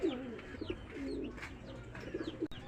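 Pigeons coo softly nearby in repeated low, throaty phrases, with faint background chatter from other birds.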